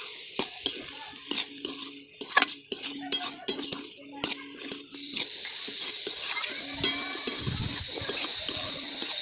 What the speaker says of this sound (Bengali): এইভাবে বাঁধাকপি ভাজলেন